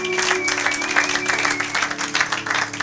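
A church congregation applauds together, a dense sustained burst of clapping that fills the space, with a faint tone ringing beneath and some crowd noise.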